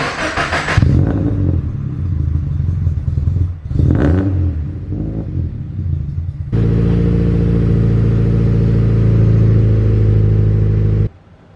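A cold Subaru WRX engine cranks, catches and stumbles twice, then settles into a loud, steady rev held for several seconds before cutting off.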